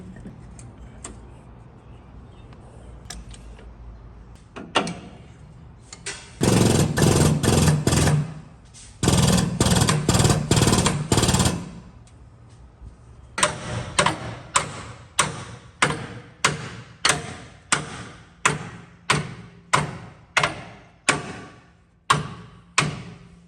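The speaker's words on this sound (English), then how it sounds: "then we can hit it with a hammer right here, flatten all this out" Sharp metal hammer strikes ring out on a steel frame flange of a damaged 2019 Chevy Silverado, first scattered, then two bursts of rapid blows, followed by a steady run of evenly spaced loud hits.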